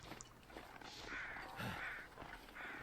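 Crows in The Long Dark caw several times at a distance, faint harsh calls standing out over a quiet outdoor ambience with no talk.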